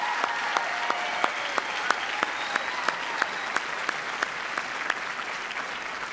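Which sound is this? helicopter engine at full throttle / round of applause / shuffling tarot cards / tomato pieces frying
round of applause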